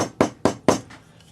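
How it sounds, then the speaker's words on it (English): Rawhide hammer gently tapping metal while fitting a jewelry link: three crisp, evenly spaced close taps, followed by a faint fourth. "You can gently hammer it with a rawhide hammer"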